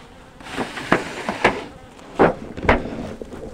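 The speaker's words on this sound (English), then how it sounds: "So our field bees will be coming in right there." Honeybee field bees flying in at a hive entrance, a steady buzzing drone with several louder passes of individual bees close to the microphone.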